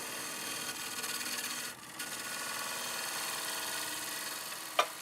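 Wood lathe making a light cleanup cut on an English walnut natural edge bowl from a crotch piece, a continuous soft scraping hiss with a brief dip partway through and a sharp tick near the end.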